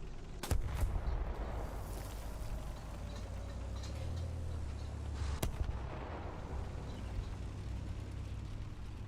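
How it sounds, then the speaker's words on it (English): Artillery fire in the tank game War Thunder: two sharp blasts several seconds apart, each with a booming low rumble, over continuous low battle noise with no talking. "Is he just gonna keep spamming artillery on me?"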